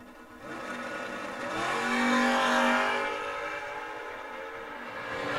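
Drag race at the Mike Smith Memorial Race: a second-generation Chevrolet S10 and a first-generation Camaro roar down the strip, engines swelling to a loud peak midway then fading with a droning, slightly tonal rumble.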